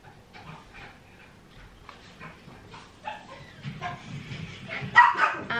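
A dog barks and yips indoors at home in a few sharp, uneven bursts over faint room noise, the barking growing louder and closer toward the end.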